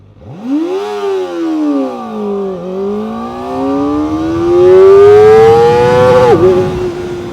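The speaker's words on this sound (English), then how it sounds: "Hit the rev max at 108 kilometers per hour." A Kawasaki ZX-4RR motorcycle's four-cylinder engine screaming up through the revs under hard acceleration, a loud, close, rising high-pitched wail that dips briefly at a gear change before climbing again toward the rev limit.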